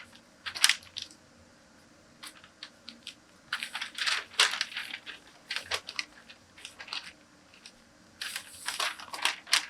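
A paper skirt pattern is folded along a dart leg, giving bursts of close, crisp crinkling and rustling in several separate bouts between quiet pauses.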